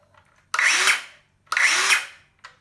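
A DeWalt 18V cordless circular saw whirs up and cuts off twice in quick succession, each burst lasting about half a second, then a brief third start.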